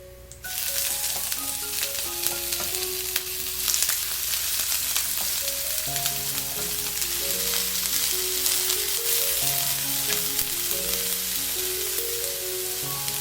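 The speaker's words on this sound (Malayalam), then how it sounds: "ഇനി ഇതിലേക്ക് ആവശ്യത്തിനുള്ള വെജിറ്റബിൾസ് ഇട്ട് കൊടുക്കാം." Mixed vegetables sizzle and fry steadily in a hot pan as a mixed veg stir fry cooks, with a constant loud crackle and occasional stirring scrapes, no voices, while soft music plays underneath.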